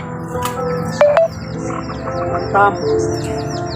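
High, thin chirps from baby chicks repeat in quick bursts close by, with a couple of louder peeps standing out over a low background hum.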